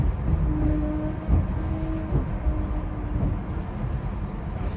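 A SEPTA trolley on the SL5 route running, heard from inside the front of a new car: a continuous low rumbling roll with faint tonal whine, steady throughout, with quiet talk beneath.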